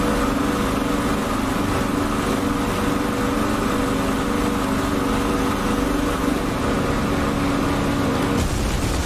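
Piston warplane engine, a Spitfire MkIX or Bf 109 K-4 in the DCS World flight simulator, runs as a steady, loud droning hum throughout while the throttle is eased forward, then cuts off abruptly near the end.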